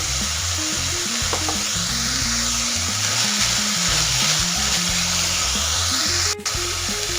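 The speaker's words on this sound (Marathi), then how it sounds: "1 मिनिट परतून घेऊया।" Moth beans for misal are sautéed in a hot pan with a steady, loud sizzle and a dense frying hiss. A low hum and occasional clinks sit under it throughout.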